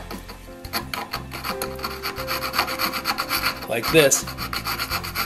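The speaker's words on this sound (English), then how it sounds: "I'm going to take the part with the teeth on the flat and go in there and sharpen this edge right here" An auger bit's cutting edge is sharpened by hand with a file, giving a steady run of close, rasping strokes with a scratchier burst near the end.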